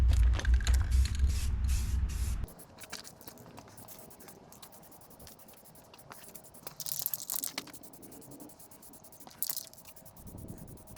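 A dust coat of spray paint goes onto a Halloween prop: after a rumbling start, a can hisses steadily with a few louder, sharper bursts of spray. No one speaks.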